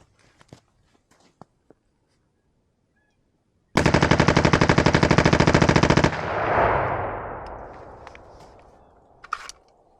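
An AR rifle with a forced reset trigger rips through a magazine of 5.56 rounds in one loud, rapid, evenly paced burst of about two seconds, then a long echoing tail fades outdoors before a few faint handling clicks.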